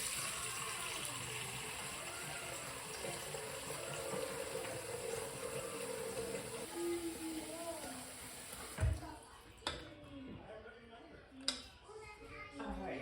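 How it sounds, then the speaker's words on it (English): A small pot filled with water from a kitchen tap gives a steady close rush and gurgle that runs for several seconds, then a few clanks and knocks as it is moved. "I got my little pot filled with water"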